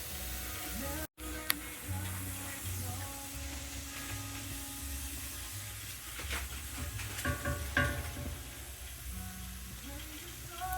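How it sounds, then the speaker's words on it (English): Chanterelle mushrooms sizzle steadily in a cast iron pan, a soft continuous hiss with occasional pops, heard close amid light background music. "Cooking our chanterelles in the cast iron."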